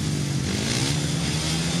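Speedway motorcycle engines rev together at the start gate of a Speedway World Cup semi-final in Riga, a loud sustained droning buzz with fluctuating pitch, close and continuous.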